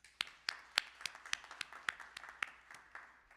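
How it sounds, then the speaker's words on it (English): Scattered claps from a small audience at a tech meetup and startup competition in Civic Hall, New York, thanking the event partners, a sparse run of about a dozen sharp hand claps, fairly quiet and irregular. "So everyone, please, a round of applause for their hard work."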